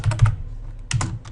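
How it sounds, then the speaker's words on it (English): Close keystrokes on a computer keyboard come in two quick bursts of several clicks each, separated by a brief quiet gap, with a few lighter taps trailing at the end. "let's just type in here again"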